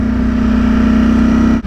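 A Ducati Streetfighter motorcycle engine revving, loud and close, holding a steady high idle-rev drone for over a second before cutting off abruptly.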